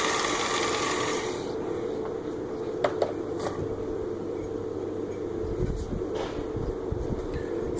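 A Work Sharp powered sharpener runs at low speed while an axe blade is ground with alternating passes on each side: a steady, close motor whir with belt grinding throughout and a couple of sharp clicks near the start.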